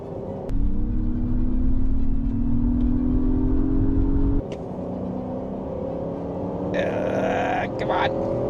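A 2024 Acura MDX Type S drag races a Dodge Durango Hemi, engines droning steadily as they accelerate, with a sudden drop and shift midway and faint whirring later.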